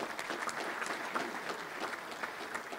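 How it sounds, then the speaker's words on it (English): Audience applause at a Touchdown Club luncheon, moderately distant and steady clapping with scattered individual claps, no talk over it. "Let's give her a round of applause if you could."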